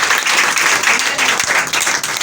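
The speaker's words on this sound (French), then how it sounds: "Applaudissez à Dieu" Loud, continuous applause from a church congregation, dense clapping filling the whole moment without pause.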